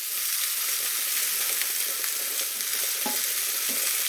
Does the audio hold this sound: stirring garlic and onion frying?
yes